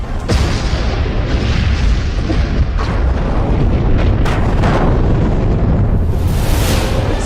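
Missile strikes on military air bases, rendered as a continuous roar of heavy explosions and booms, loud and dense throughout with repeated blasts layered over a rumbling low end, no voices.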